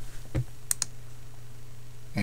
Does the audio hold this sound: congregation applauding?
no